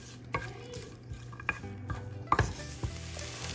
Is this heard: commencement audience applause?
no